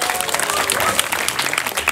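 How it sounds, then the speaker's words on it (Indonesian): A crowd claps continuously, dense and close, a lively burst of applause filling the short moment, at a Balinese traditional performance in Bangli. "Tepuk tangan untuk kita semua."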